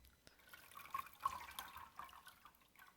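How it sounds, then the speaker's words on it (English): Water draining from washed lettuce leaves lifted out of a bowl or sink, a soft continuous trickle with scattered drips, close and quiet, no talking. "Then I'll lift it up, let the water drain through, dump the water again."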